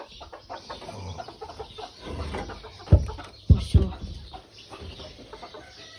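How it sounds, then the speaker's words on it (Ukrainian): A broody hen on a farmyard holding with geese, turkeys, ducks and pigs gives soft, low clucks close by, with a few louder sharp bursts in the middle and a short spoken word. "все щось квочка хоче, мабуть, всістися"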